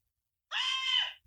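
A single high-pitched scream in the manner of Homer Simpson rises suddenly out of silence, holds steady and loud for about half a second, then cuts off.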